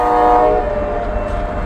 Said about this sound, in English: gates are going down here in East Wyoming Avenue in Laughlin. We got a train coming.